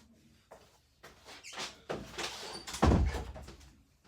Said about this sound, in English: I'm going to have to shut the door